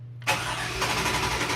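A Toyota FJ40 engine cranks and catches after a brief silence, then settles into a steady, loud idle close by, with no talk over it.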